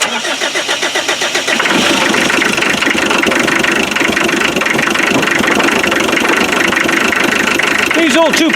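An old 2.5-litre naturally aspirated diesel engine cranks with a few rhythmic turns, catches and settles into a loud, lumpy, knocking idle that runs steadily close by.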